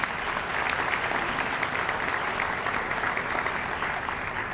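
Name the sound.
audience applause for teachers and students at a meeting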